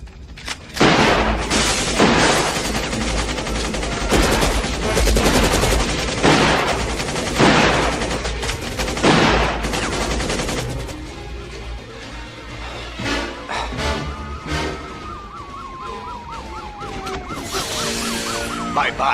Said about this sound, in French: Inspecteur Sévrance, il est armé d'un fusil mitrailleur